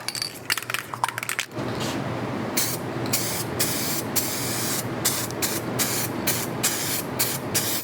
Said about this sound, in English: I'm gonna go ahead and take this top coat and give it a spray